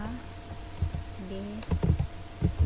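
Keys clatter on a computer keyboard in short bursts of clicks, typing in values in Visual Basic 6.0, with a faint tonal hum in the background.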